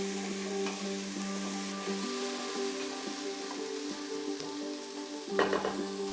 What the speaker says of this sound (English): Sauté for a few minutes.